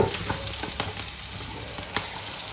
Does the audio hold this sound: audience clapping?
no